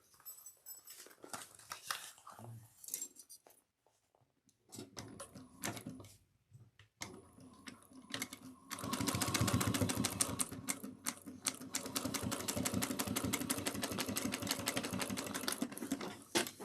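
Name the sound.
sewing machine sewing cross-body bag gusset seam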